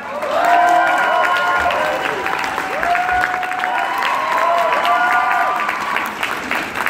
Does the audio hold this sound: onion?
no